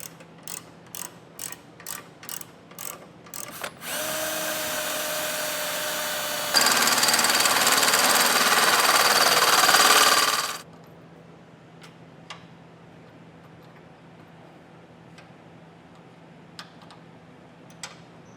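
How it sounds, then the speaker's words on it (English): Several clicks of a ratcheting tool, then a steady high-pitched power drill whine drilling a hole into a vehicle frame, rising in loudness for about seven seconds and stopping abruptly, followed by soft ticks. "then drill our hole on top, hole into the frame."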